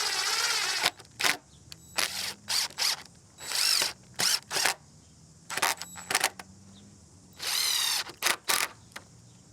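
A power drill drives stainless screws into a wooden gate hinge, whirring in repeated short bursts with brief pauses between, loud and close.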